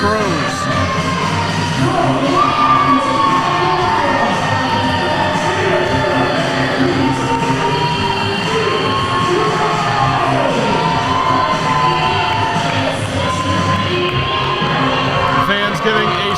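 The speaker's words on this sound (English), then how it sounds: "Fans giving a strong ovation to Zeke Rose" Fans in a competition crowd cheer, yell and whoop in a sustained ovation for Zeke Rose, a loud continuous roar of voices with an announcer talking over it.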